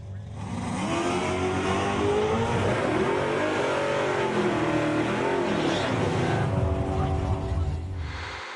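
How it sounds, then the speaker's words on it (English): Loud naturally aspirated drag racing car engines rev and roar in Cecil County, pitch rising and falling as they accelerate down the strip, continuous and close. "This is the naturally aspirated drag racing in Cecil County."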